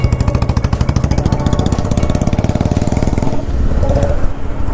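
A Bullet motorcycle with a broken light thumps steadily on an open road, its loud, close single-cylinder beat sounding as an even, rapid pulse from start to finish, with no voices.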